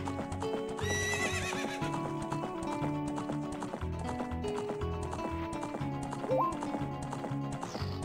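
A horse gallops with quick clip-clop hoofbeats and whinnies in the video game Zelda: Ocarina of Time, over the game's continuous melodic music.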